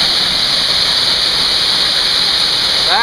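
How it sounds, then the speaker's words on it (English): A waterfall at Blackwater Falls State Park roars close by in misty surroundings, a loud, steady broadband rush of falling water that fills the whole moment without pause. "That is a waterfall worth finding."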